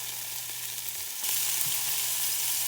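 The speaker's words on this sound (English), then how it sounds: "the skillet's good and hot, so I'm going to go ahead now and start adding my little pieces of bacon" Small pieces of bacon drop into a hot skillet, and a steady sizzle jumps louder as they hit, then holds as a dense, continuous crackle close by.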